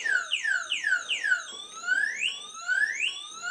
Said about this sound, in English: the alarm changes